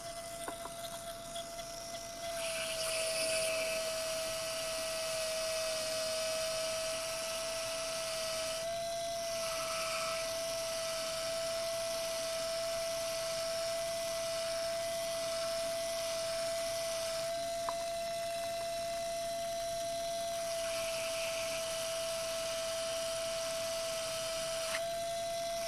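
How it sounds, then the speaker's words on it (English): A modified pedicure wand hums at a steady high pitch as it sands a fingernail, a faint, constant whine with slight changes in tone as pressure shifts, and nobody speaks over it. "this should be the final sanding"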